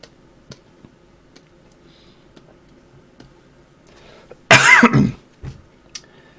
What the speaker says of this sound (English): Sorry again for the coughs.